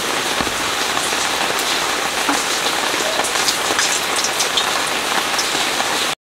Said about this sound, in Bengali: প্রথমে বন্ধুরা সরষের তেলটা দিয়ে দেবো।